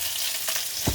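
Onions and leeks fry in olive oil, a dense, even sizzle filling the whole moment, close and loud, with a faint stir or knock near the end and no voices.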